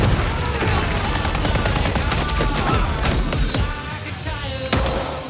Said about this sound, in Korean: 총성과 함께 마침내 랜디나 세력과 허치 일행의 전투가 시작되죠